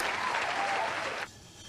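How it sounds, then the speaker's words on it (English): Applause from an audience fills most of the short moment as a steady broadband patter, then stops abruptly near the end, leaving quiet room tone. "Thank you for the applause."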